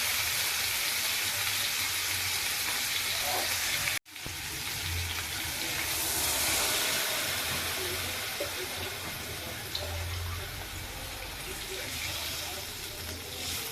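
Water is poured into a pan of salted, half-boiled white potatoes frying for a curry. A continuous hiss and sizzle is briefly cut off, then resumes, fairly soft and close.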